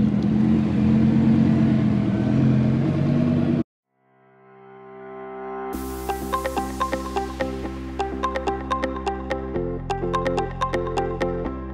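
A car engine roars, then cuts off briefly before revving back up with sharp, repeated throttle blips and popping exhaust bursts, loud and close.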